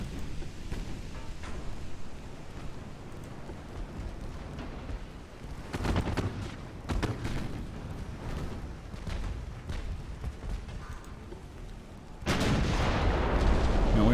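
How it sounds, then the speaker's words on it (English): Naval guns firing at an enemy cruiser in Ultimate Admiral: Dreadnoughts, a rumbling sea battle with scattered heavy booms, a louder roaring blast near the end. "I'm try taking a few shots at his cruiser since he's about to sink mine."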